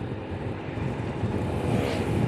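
A WMOTO ES250 motorcycle engine roars steadily and close, a broad continuous rumble that builds slightly toward the end without any talk.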